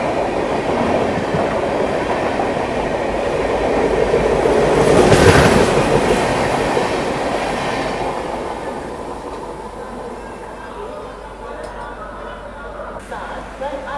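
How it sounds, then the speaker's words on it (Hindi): The Lucknow Shatabdi Express pulls out of Tundla station, its rumble and rhythmic wheel clatter swelling to a loud peak midway before easing off as the train rolls on. "चलिए टुंडला से भी हमारा जो है डिपार्चर हो गया है भाई"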